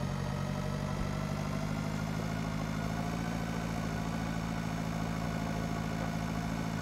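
A Zetter 80 tractor engine in the farming game Pure Farming 2018 runs at a steady, low, droning hum, constant and unbroken with no voices.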